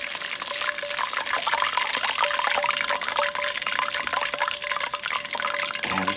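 Liquid drains steadily and continuously from fried fish and chips cooked on a barbecue, a bright, hissing trickle running the whole time with no pauses.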